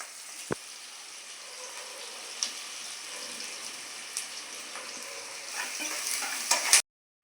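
Mutton pieces frying in a pan for a home-cooked curry, a steady close sizzle with occasional sharp clicks and pops, rising a little before stopping abruptly.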